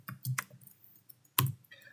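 A few sharp key clicks on a computer keyboard as a web address is entered into the Chrome browser, in short bursts with quiet gaps between them.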